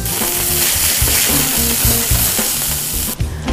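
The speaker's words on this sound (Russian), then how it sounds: "Теперь нам стоит добавить немного сливочного масла сверху, чтобы котлета полностью пропиталась сливочным маслом и стала более нежнее." A burger patty fries in butter on a stove, giving a loud, steady close-up sizzle with some rhythmic stirring or scraping underneath, stopping abruptly near the end.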